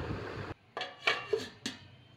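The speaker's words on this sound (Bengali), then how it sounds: "2-3 মিনিট বাদে ঢাকাটা খুলে আবার একটুখানি নেড়ে দিলাম।" A lid comes off a pot of Bengali vegetable fish curry, then a spoon scrapes and taps against the pot in a few short, close clatters.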